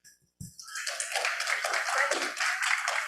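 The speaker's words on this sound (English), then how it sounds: "Get a round of applause." Audience applause at a Sunday church service, starting after a brief pause and then holding as a steady, dense wash of clapping from many hands.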